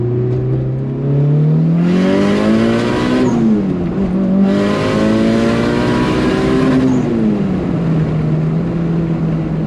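A Mitsubishi Evo 6 with a 2.3-litre fully forged engine accelerates hard through two gears, the engine note climbing loud and close, dropping at the shift and rising again before settling.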